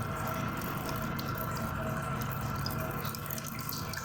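Water runs steadily from a tap into a sink to soak something, a constant hissing, splashing stream close by and unbroken for several seconds, with no voices.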